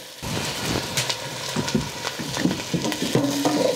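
Rings of chile perón frying in hot oil with onion in a cazuela, a steady close sizzle with light stirring and scraping throughout, no talk.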